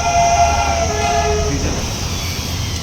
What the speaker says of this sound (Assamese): এই দাৰ্জিলিং টয় ট্ৰেইন।